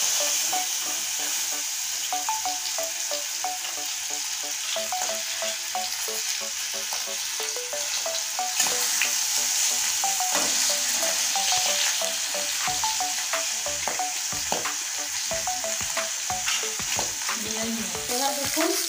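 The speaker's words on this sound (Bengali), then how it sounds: "এবার দেখুন মাছটা তেলে ছেড়ে দিয়েছি ভাজার জন্য" Rupchanda fish, head included, frying in hot oil in a pan and being stirred and turned, giving a steady close sizzle with frequent scraping and clinking stir strokes throughout, no talk.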